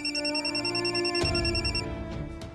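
A home telephone rings in a household scene: a clear electronic trill repeating in a steady pattern, close and prominent, with a brief knock partway through.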